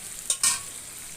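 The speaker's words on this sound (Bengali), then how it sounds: "ভেজে রাখা গোস্তটা ঢেলে দিচ্ছি। এবার ভালো করে নেড়ে চেড়ে আমি ডেকে দিয়ে একটু কষিয়ে নেব।" Beef that was fried in oil beforehand is stirred back into a hot pan, giving two short scraping, sizzling bursts close by with a softer steady sizzle between them. No one speaks.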